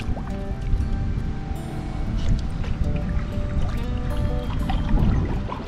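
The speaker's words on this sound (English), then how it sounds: "As you're just paddling out here, right now the wind's just taking us, so we're in the bay." Paddle strokes dip and splash in calm bay water near a village on Cape Breton, with close drips and sloshing against a small boat, steady and near throughout.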